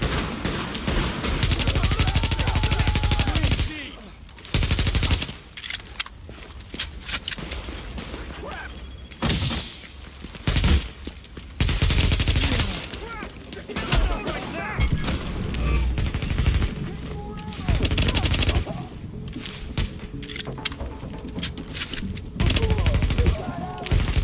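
Heavy gunfire from the video game The Division, loud bursts and sustained automatic fire with crashes and booms, broken by brief lulls, alongside speech in the game.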